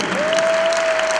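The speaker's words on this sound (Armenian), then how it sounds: "Ծափահարություն Ռոմիկ Մարկարյանին" Brief burst of steady audience applause honouring commander Romik Markaryan at a commemorative gathering, dense clapping with a thin sustained electronic tone running beneath it.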